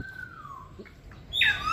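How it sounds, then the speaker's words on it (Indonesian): A golden hornbill, or burung julang emas, kept in a bird enclosure, gives a thin descending whistle followed by a brief louder harsh squawk near the end, with no talk over it. "Wah, ini burung julang emas teman-teman."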